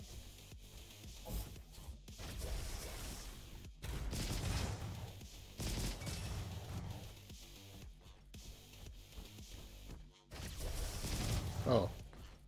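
Roboquest's Wakama Cannon lets off a rapid volley of missiles in the shooter video game, with bursts of explosive, crackling fire under a player's voice.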